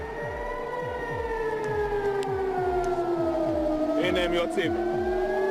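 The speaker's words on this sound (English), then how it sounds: "The air raid sirens going off were really the topic of the day here in Jerusalem." An air raid siren in Jerusalem wails, holding a long, loud tone that slowly sags in pitch, over a low pulsing rumble. No voices are heard.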